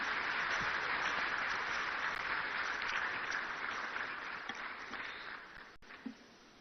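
Audience applause at a national economic dialogue event in Ghana, a broad steady wash of clapping from a large hall crowd that holds evenly and then tapers off toward the end.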